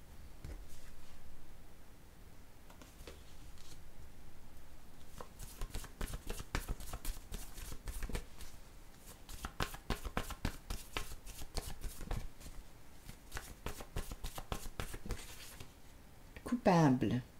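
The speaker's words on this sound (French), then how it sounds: "Je vais déposer tout de suite une carte sur les deux femmes." Tarot-style cards are shuffled and laid down during a card reading, a soft continuous riffling and flicking with rapid papery taps, close and quiet, while someone talks in French over it.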